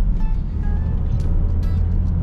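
A 2009 Mazda 6 with the 2.0 MZR 147 hp petrol engine accelerates, heard from inside the cabin as a steady, low engine drone with road rumble.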